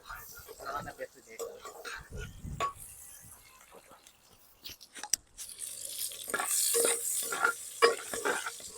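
Chicken grilling in hot oil, crackling and sizzling softly while being stirred, with scraping and rustling that swells louder toward the end and a voice talking over it.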